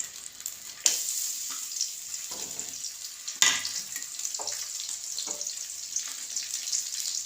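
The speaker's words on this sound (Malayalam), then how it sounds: "ചെറുള്ളി ഇട്ടിട്ടൊന്ന് മൂക്കട്ടെ കേട്ടോ." Small onions fry in hot coconut oil with a steady, bright sizzle, broken by occasional stirring scrapes and crackling pops, close and with no talk.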